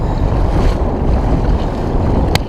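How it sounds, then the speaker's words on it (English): Choppy waves and strong wind during a kayak ride around an island, loud buffeting wind roar and slapping water with no talk. "Waves have picked up"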